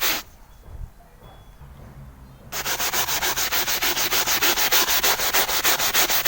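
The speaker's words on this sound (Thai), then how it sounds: "สามารถขัดปากกาเคมีออกได้ด้วย ปกติต้องใช้ทินเนอร์ล้างออกก่อนนะครับ มาเดี๋ยวเราจะขัดดู" After a few quiet seconds, a brush scrubs marker ink off leather upholstery in fast, regular back-and-forth strokes, loud and close with an even rasping rhythm.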